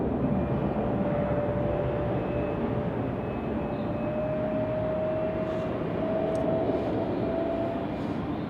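A steady airplane engine drone at Salt Lake City Airport, a constant broadband rumble with a faint sustained whine, moderately loud and unbroken.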